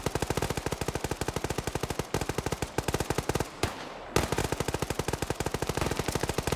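Rapid sustained bursts of MG3 machine gun fire in a shooter video game, loud and close, with a few brief pauses between long strings of evenly spaced shots.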